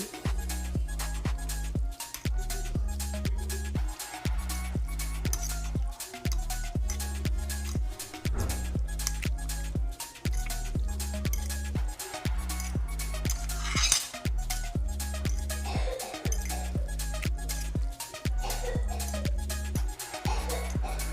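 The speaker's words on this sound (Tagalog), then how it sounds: "Kuha tayo ng tinidor. Ito na yung tinidor. So, mix natin." A fork mixing food in a dish, rapid steady metallic clinking and scraping against the container repeating for a long stretch, close and fairly loud, with no voices over it.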